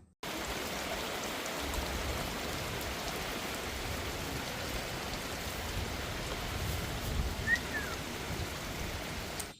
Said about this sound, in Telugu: వర్షం అయితే ఒకటే రేవండి ఎక్కడ ఆగట్లేదు